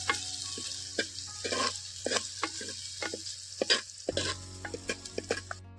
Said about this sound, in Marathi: फोडणी बरी भाजली